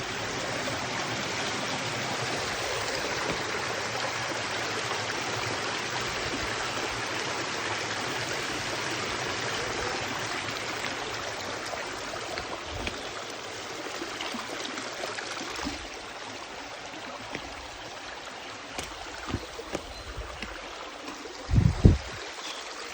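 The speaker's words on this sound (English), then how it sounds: "ఈ ప్రశాంతమైన నీటి చప్పులను ఆస్వాదించండి ఫ్రెండ్స్." Steady, rushing flow of a forest stream near a waterfall in the Lankamalla forest, a continuous close wash of water that holds evenly, with a few low thumps of handling near the end.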